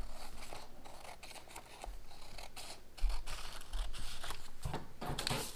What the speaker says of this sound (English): So we'll just use a pair of scissors to cut that off.